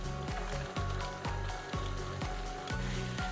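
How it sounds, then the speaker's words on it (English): A KitchenAid stand mixer turns dough with its hook on low speed, level 2, mixing flour into bread dough; a steady mechanical hum carries a regular knocking thump roughly every half second as the hook slaps the dough. "Start mixing on low speed until no dry flour remains."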